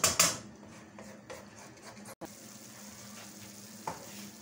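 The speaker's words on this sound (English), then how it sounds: "You let it simmer for like 3 to 5 minutes." Spiced fish sauce simmering in a pan for a wet fry fish dish, a soft continuous sizzle under scraping stirring strokes, with a louder clatter at the start and a brief break midway.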